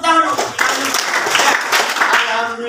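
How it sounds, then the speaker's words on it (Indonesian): Students in a classroom clap together in a steady burst of applause that carries through the whole stretch, with a voice speaking over the clapping. "Ya, tepuk tangan dulu."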